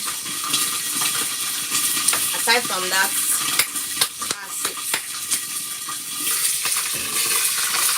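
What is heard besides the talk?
onion frying with bay leaf for stew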